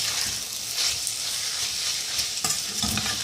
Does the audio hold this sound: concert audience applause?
no